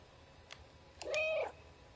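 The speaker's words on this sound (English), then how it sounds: "Oh, look, cat right there." A single clear cat meow in a video game, short and moderately close, preceded by a couple of soft clicks against quiet ambience.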